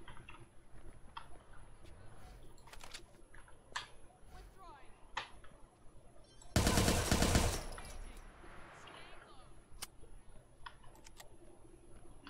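Gunfire in the video game Watch Dogs 2: one short, loud burst of rapid shots stands out against quieter clicks and game ambience, with someone speaking before and after.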